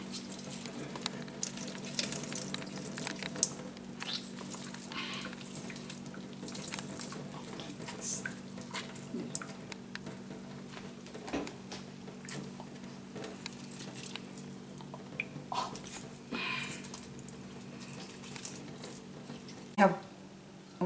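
Soaked bread squeezed by hand for a bread pudding, giving soft wet squishes and drips of water into a bowl or sink, fairly quiet against a low steady hum, with one sharper splash near the end.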